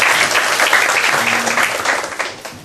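Applause from a church family-worship class audience, a dense burst of many hands clapping together, loud and steady for a few seconds before tapering slightly.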